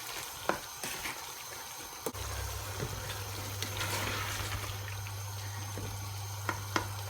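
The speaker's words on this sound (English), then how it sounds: "So I will now add in the frozen peas, and mix this all together." Frozen peas frying and being stirred into a chicken korma, a soft steady sizzle with scattered scraping clicks of the spoon against the pan, close and moderately quiet.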